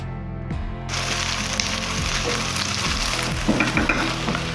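Sliced onions, two medium ones, fry steadily in hot oil for samosa filling, giving a loud, continuous crackling sizzle with scattered pops and the occasional stir. It starts abruptly after a short quiet lead-in.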